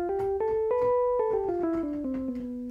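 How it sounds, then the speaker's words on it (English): A descending scale in the Locrian mode, the seventh mode of the major scale, played note by note at a steady, even pace, close and clear with no talking. "So the Locrian scale, or the seventh mode, sounds like this."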